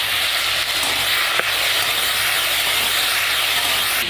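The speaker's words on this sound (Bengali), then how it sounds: "আর কড়াইতে তেল দিয়ে দেবো। এবার মাছটা দিয়ে দেবো।" Shrimp frying in hot oil in a wok, giving a loud, steady, close hiss of sizzling that runs unbroken, with one brief clatter and no voices.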